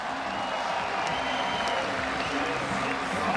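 A crowd of spectators applauds and cheers steadily at the Swatch Prime Line 2015 BMX event outdoors, a continuous wash of clapping with a few sharp claps and whistles standing out.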